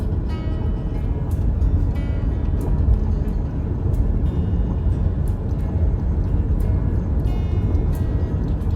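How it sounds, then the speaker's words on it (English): A car drives along US Highway 1 in Florida: a steady, close road rumble and low engine drone with occasional light clicks and ticks. "Driving in on US Highway 1."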